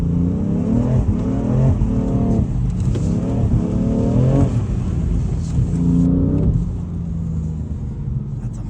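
A BMW M3 on a race track pulling hard through the gears, engine note climbing in repeated rising sweeps with quick shifts, loud and close, then easing to a lower drone.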